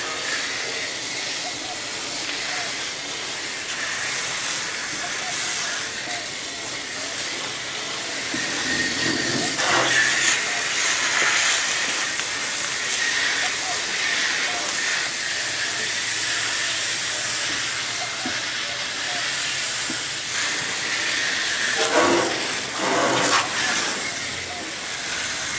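Aerosol cleaner sprays in a steady, broad hiss onto a Carrier outdoor AC unit during its cleanup, running almost continuously with a few brief louder bursts near the end.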